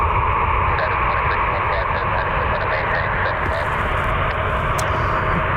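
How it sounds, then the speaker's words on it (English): A Southwest Airlines jet, fully loaded, rolling down the runway on takeoff, a loud steady engine roar with a broad rushing hum that holds throughout. "Southwest probably fully loaded on their way to Phoenix, so taking a lot of runway to get off the ground here."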